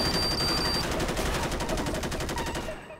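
Rapid, dense video-game gunfire from GTA 5 with the LSPDFR police mod during a military and SWAT patrol, with continuous automatic bursts that stay loud and close for the whole stretch before trailing off at the very end.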